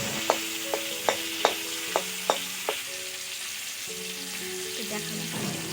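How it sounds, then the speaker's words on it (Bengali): Pieces of pond-fish fat dropped one by one into hot oil, each landing with a sharp crackling pop over a steady low sizzle, close up, with no talk. "এবার আমি দেখুন মাছের চর্বিগুলো একে একে তেলের মধ্যে দিয়ে দিলাম।"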